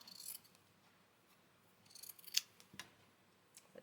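Scissors snipping paper for a garden-themed journal cover, a few quiet, sharp close cuts scattered among soft rustling handling sounds.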